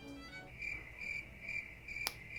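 Crickets chirp in rhythmic, evenly spaced trills, faint and steady against a quiet background with no voices.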